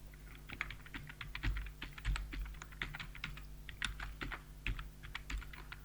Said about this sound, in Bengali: তো আমার অ্যাড্রেসটা আমি এখানে লিখে দিচ্ছি